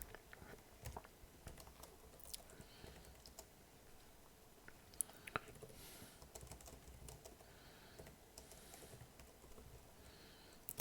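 Quiet typing on a computer keyboard during a poker hand review, a steady patter of soft key clicks with a few sharper isolated taps, heard close up and alone.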